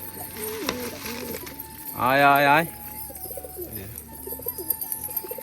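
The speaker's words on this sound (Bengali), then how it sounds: "সব পায়রা খাবার খাচ্ছে" A loud, rich burst of cooing from domestic pigeons feeding stands out for under a second amid soft background chatter and a voice calling out.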